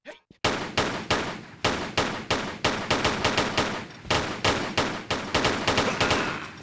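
Pistol gunshots in Tomb Raider III, a rapid string of loud, sharp shots fired in quick bursts with brief pauses between them, close and clear with no talking.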